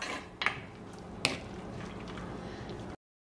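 Spoon stirring a Sri Lankan long bean curry with coconut milk and ground paste in a pot, with a couple of clinks of the spoon against the metal over a soft, wet swishing.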